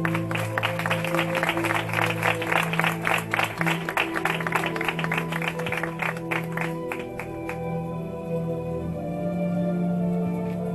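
Applause at a wedding celebration, a dense burst of many hands clapping up close that thins out and fades after several seconds, with music playing underneath.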